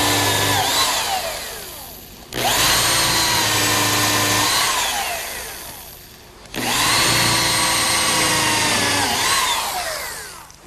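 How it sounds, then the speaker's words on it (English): Nearby, a power drill bores a pilot hole and countersink in wood for a picnic table seat, whining loudly in two long runs, each winding down before the next starts. "Now a pilot hole and countersink."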